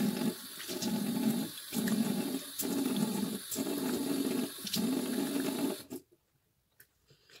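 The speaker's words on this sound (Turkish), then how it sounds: "Şimdi yüzümü yıkadım güzelce." Steady running water from a tap while a face is washed at a sink, broken by a few short pauses, loud and close, then stopping abruptly near the end with only faint drips and splashes after.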